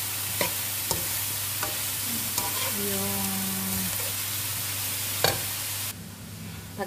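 Squash and carrots sizzle quietly in a pan, with a low steady fry under a few sharp clinks of a utensil against the pan and a brief tonal squeak partway through; no talking.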